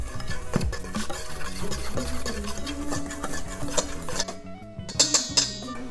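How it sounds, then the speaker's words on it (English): Sifted cocoa powder, salt and other dry ingredients for coffee shortbread cookies whisked together in a bowl, rapid clinking and scraping strokes of a whisk against the bowl, close and fairly loud, with no voices. "And we're gonna whisk this together."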